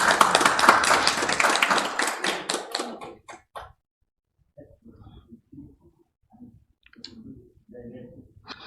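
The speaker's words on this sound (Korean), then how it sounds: "큰 박수 부탁드립니다" An audience at an academic conference award ceremony gives loud, dense applause for about three seconds that quickly dies away, followed by a few scattered claps and someone speaking.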